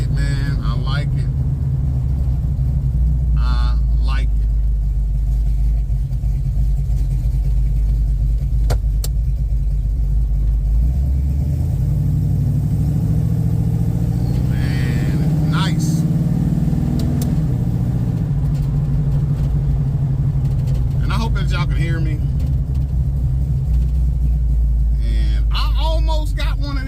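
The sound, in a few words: Chevrolet Malibu with 383 stroker engine running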